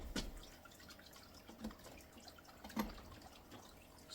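Ten-head VEVOR ultrasonic mist maker running submerged in water, giving faint, close, irregular splashes and drips over a low steady hiss.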